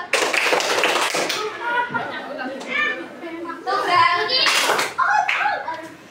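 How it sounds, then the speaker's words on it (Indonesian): Children in a primary-school classroom clap their hands in short bursts while a teacher leads them with call-and-response speech; the claps come as brief sharp flurries between the talking. "Kalau kau suka hati tepuk tangan."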